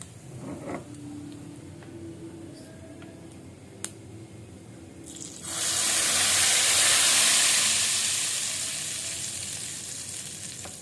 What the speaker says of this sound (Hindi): इसके बाद हम लगाते हैं तड़का, और तड़के की जो आवाज़ है ना वो आपको सुनाऊंगी